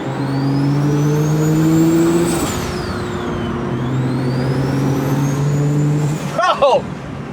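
Built N54 BMW 335i engine revving while driving, a steady droning exhaust note with a rising and falling whine, then a burst of crackles near the end; a voice speaks briefly over it.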